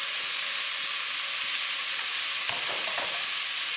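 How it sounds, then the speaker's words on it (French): Carrots seasoned with pepper, ground ginger and sweet paprika sizzle steadily in a hot pan, with a few scraping stirs partway through under the constant loud frying hiss, no one talking. "Je vais remuer le tout comme ceci."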